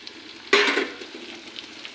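A sudden loud burst of sizzling comes as mustard paste goes into fried flat beans in a hot pan. It settles into a softer, steady frying crackle with faint stirring scrapes.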